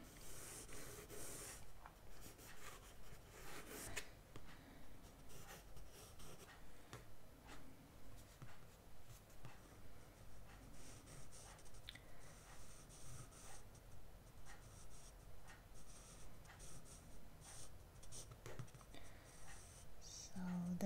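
Multicolored pencils sketching a human figure outline on paper make a steady, rhythmic scratching of repeated strokes throughout, close up and soft, with quiet talking over it.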